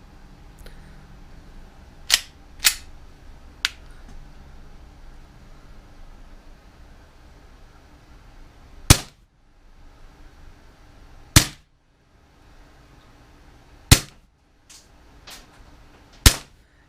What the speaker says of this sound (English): I'm just going to show you it firing here real quick